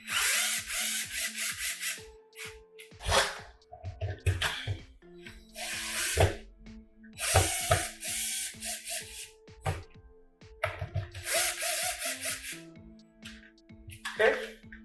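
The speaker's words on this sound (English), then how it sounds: "Screw that in." A power drill drives screws while a smoke detector is mounted: several loud, close bursts of whining motor and grinding screw bites, each a second or so long, separated by pauses with rustling and someone talking.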